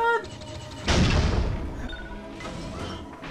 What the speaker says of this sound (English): So that's a cool little, cannon thing